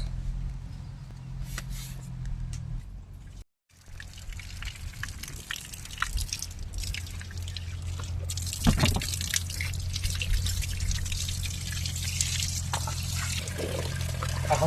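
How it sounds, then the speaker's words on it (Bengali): Water drips and trickles steadily as vegetables are rinsed for cooking outdoors, with a low hum underneath and a brief dropout partway through. "তোমাদের বৌদি কিন্তু এখন সমস্ত সবজি তাহলে পরিষ্কার করে ধুয়ে নিচ্ছে"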